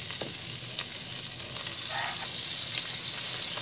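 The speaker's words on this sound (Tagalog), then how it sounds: "medyo pina-fry natin ng konti yung tuna natin, yung ating tuna chunk" Tuna chunks frying in a pan for carbonara, a loud steady close sizzle with faint stirring scrapes and no voices.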